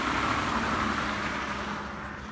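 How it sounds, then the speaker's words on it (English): Steady road traffic on busy Route 34 beside a farm field near Antietam, a continuous roar of a passing vehicle that slowly fades, fairly loud with no talking. "there's traffic noise that I'm going to try to talk over"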